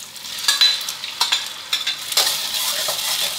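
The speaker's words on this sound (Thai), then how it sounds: "ผัดให้ปลากระป๋องโดนกับความร้อนสักครู่ครับ" Canned fish and egg stir-fried in a hot wok over medium heat, with a steady sizzle under repeated scraping strokes of a spatula, close and moderately loud.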